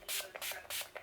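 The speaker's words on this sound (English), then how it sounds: "The Urban Decay All Nighter Setting Spray." Urban Decay All Nighter setting spray misted in a few quick bursts, close and airy, each spritz a short hiss.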